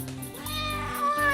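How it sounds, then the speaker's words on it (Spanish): A cat gives a clear, close meow, set among children's animal-sound clips, with a faint background hum under it. "¡Es un gato! Sí. ¿Y cómo hace el gato?"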